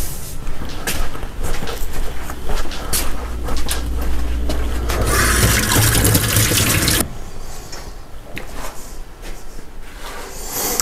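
An airbrush gun is rinsed out with water after painting, as liquid splashes and a tap runs in a steady close hiss that stops abruptly, followed by quieter clattering and handling noises, with no talking.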